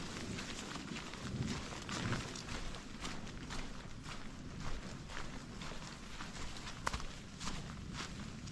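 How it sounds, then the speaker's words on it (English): Footsteps on a dark forest trail in the Appalachian mountains, high up in cloud, crunching in a steady walking rhythm at moderate distance over constant rustling background noise, with no voices. "I definitely heard footsteps."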